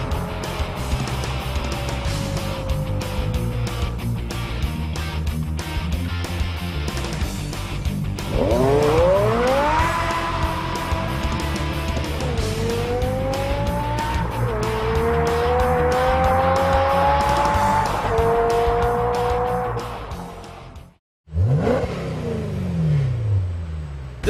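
A Dinan 5.7-liter naturally aspirated V10 in a BMW M6 revs hard and loud, its pitch climbing in repeated sweeps, then cuts out briefly before one more sharp rev.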